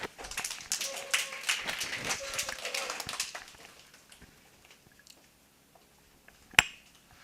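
A small audience at a training-class information session applauds trainers as they are introduced, a burst of scattered hand clapping lasting about three seconds before fading to near quiet, then one sharp tap.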